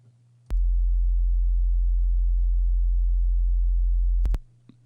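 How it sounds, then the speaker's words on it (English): A basic sine wave from the Serum synthesizer plays as a clean, steady low tone for about four seconds, starting and stopping with sharp clicks, loud and alone. "I've got this basic sine wave kind of set up here, and it's actually on Serum."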